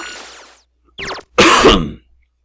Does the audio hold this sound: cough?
yes